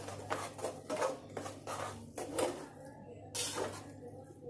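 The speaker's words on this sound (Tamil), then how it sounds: "அந்த கரண்டியோட பின்னாடி சைடை வச்சு நான் வந்து நல்லா வந்து மிக்ஸ் பண்ணி விட்டுக்கிறேன்" Chicken biryani rice being mixed in a pot with the back of a ladle, producing repeated soft scraping and clinking strokes at close range over a faint steady hum.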